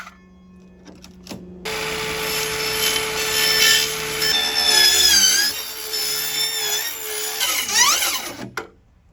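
A saw blade cuts wood during a DIY truck camper build, giving a sustained rasping, whining cut that starts abruptly after a quiet moment and rises and falls before stopping near the end.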